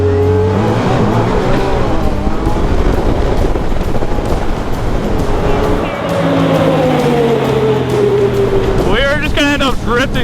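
A Can-Am Maverick R off-road vehicle races on a dirt track, its engine loud and close, revving and shifting pitch with a sharp rise near the end, while people talk over it.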